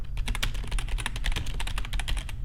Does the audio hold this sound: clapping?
no